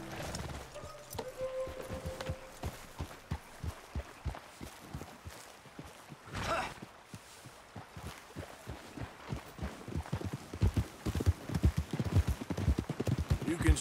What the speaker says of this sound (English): You could grab those horses if you want.